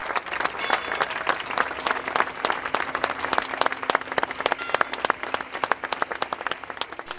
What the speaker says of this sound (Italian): un lungo commosso applauso partito dalla piazza lo ha accompagnato fin dentro la chiesa